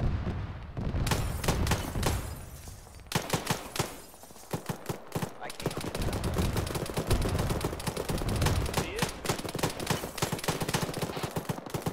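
Sustained heavy machine gun fire in the military shooter ArmA 3, with dense, rapid bursts of loud shots repeating across the whole stretch, broken by brief gaps between volleys.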